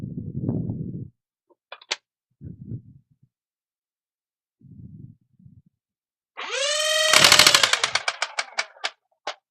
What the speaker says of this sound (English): we're going to fire a few over the chrono.